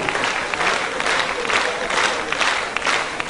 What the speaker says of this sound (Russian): Аплодисменты, овации